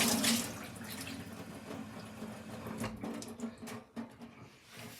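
A dish is rinsed and scrubbed under a running kitchen tap, with water gushing steadily close by, broken by a few clunks and splashes as the item is handled.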